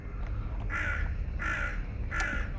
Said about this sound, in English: Oh, blackbirds shouting at me.